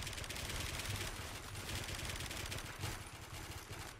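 Rapid automatic gunfire in the first-person shooter Warmode, a dense continuous rattle of shots that runs the whole time with a few louder bursts, with no speech.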